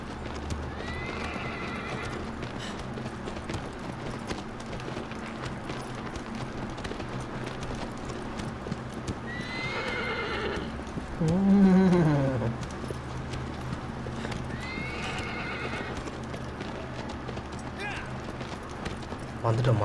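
A horse in the video game Shadow of the Colossus gallops with a steady clip-clop of hooves and lets out several whinnies, one loud neigh near the middle, while a person talks over the game sounds.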